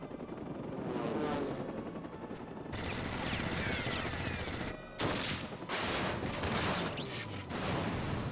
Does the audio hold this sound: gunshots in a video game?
yes